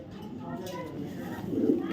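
Racing pigeons, including a black pied hen, coo in low soft rolling calls close by, with a louder coo toward the end, mixed with someone talking.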